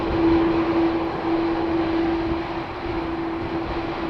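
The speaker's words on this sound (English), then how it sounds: "from a Delta A330. Yep, turning off the runway over here." A Delta A330 airliner turns off the runway at Schiphol Airport, and its engines give a steady, distant roar with a sustained low tone that fades slightly partway through.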